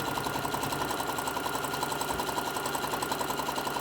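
A sewing machine stitches fabric lanyards with a fast, even mechanical whir and needle chatter, continuous and close, with no voices.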